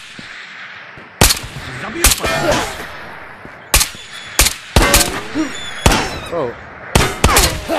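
Repeated gunshots in the video game Ghosts of Tabor, sharp loud cracks arriving singly and in short bursts with ringing tails, while someone talks briefly between shots.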